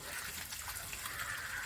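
Water gushing steadily through a water filter after its valve is opened, a continuous faint rushing flow without pause.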